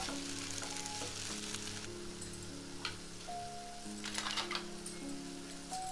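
Pepper brinjal fry with torn coriander leaves being stirred in a pan. It sizzles steadily throughout, with scraping stir strokes of the spatula and no talk.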